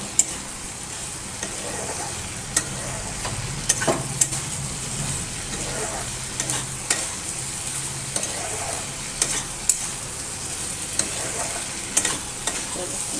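Spice paste sizzles and fries in oil in a pan while a spoon stirs and scrapes it in steady rhythmic strokes, close and moderately loud throughout with no talk.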